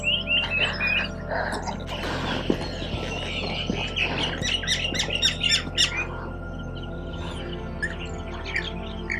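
Many birds squawk and chirp from a large tree at Vellode Bird Sanctuary in Erode, a dense, layered chorus of harsh calls and bright tweets that is loud and near, with croaking notes mixed in and no talk.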